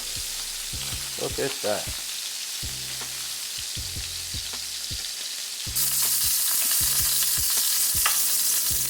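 Small steak bites sear in a hot skillet for garlic butter steak bites, giving a steady loud sizzle and fry with stirring clatter and scraping, growing louder and brighter near the end, as a voice speaks briefly.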